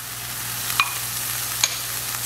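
Spices (cumin, oregano, salt and pepper) stirred into sautéing minced garlic and onion in a pan for chicken tinga, a steady soft sizzle with two brief spoon scrapes.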